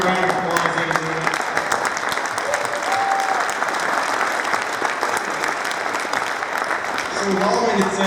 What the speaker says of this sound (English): give a round of applause, Aggie.